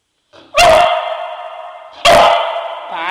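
A dog named Pášák barks on command during obedience training, two sharp, loud barks spaced about a second and a half apart, with a faint whimper before the first.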